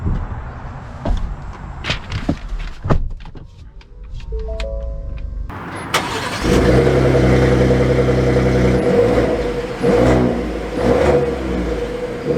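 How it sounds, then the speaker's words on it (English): A Ford F-150 Tremor pickup truck starts with clicks and a few knocks, then its engine pulls away and accelerates with a steady, rising drone heard from inside the cab, with no one speaking. "Let's see how it drives."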